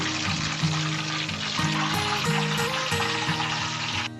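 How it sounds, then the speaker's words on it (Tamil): Brinjal pieces fry in hot oil with a constant, dense hiss close by, while a soft tonal melody plays underneath throughout. "கத்திரிக்காய் வந்து ஒரு 3 நிமிஷம் வேக வச்சா போதும்."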